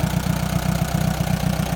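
Allis Chalmers Model B tractor engine running steadily, a close, loud, even low-pitched chug with rapid regular firing pulses throughout, no voices.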